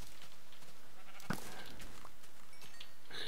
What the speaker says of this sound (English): just a sheep